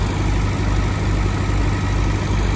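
A diesel engine idles steadily right after its fuel system was bled, a close, loud, continuous low rumble with an even pulsing throb and no talking.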